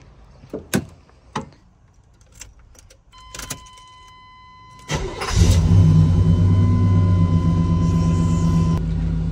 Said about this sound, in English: About to crank this OBS up. Let it warm up for a second.